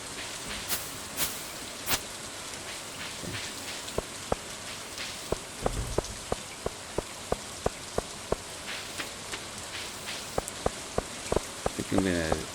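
Steady rain patters across the farm in the Stardew Valley video game, with soft hiss and scattered sharper drops ticking through a loud, continuous wash.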